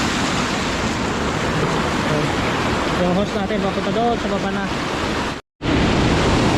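Spring water spills steadily over a small natural mini waterfall at a deep high water source, a dense rushing wash filling the scene, with someone talking over it and a brief dropout near the end.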